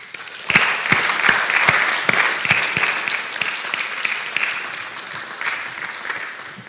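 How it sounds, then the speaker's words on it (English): Hearty applause from the audience at a university graduation ceremony for arts and social sciences, with sharp individual claps standing out early and the crowd's clapping swelling, then gradually thinning toward the end. "hearty round of applause."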